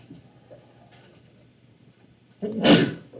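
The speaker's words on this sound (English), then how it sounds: "Bless you." Near silence with faint ticking, then a single sudden sneeze bursts out loudly near the end.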